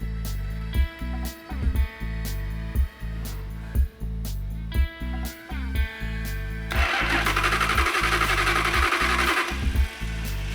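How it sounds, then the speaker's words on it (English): An engine cranks in rhythmic bursts, stalling and retrying several times before catching and running steadily, loud and close. "the engine didn't fire off on the very first bump"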